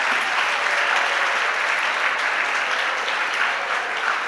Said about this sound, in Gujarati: તાળીઓથી સન્માનિત કરીએ એટલે આવશે